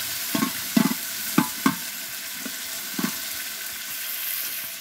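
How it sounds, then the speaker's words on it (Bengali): Lentils fry and get stirred in a large pot for khichuri, with a series of scraping, clattering stirs over a steady close sizzle and no talking. "ডাল ভেজে রাখছি"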